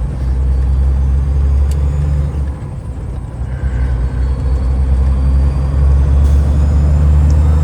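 Argosy cab-over truck rumbling loudly from inside the cab, with a deep steady engine drone that dips briefly around a gear shift before building again.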